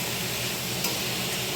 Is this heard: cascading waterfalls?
no